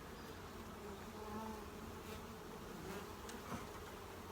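Honeybees buzzing at an open hive among frames of bee bread and drones, a steady dense low hum of many insects close by, with no talking.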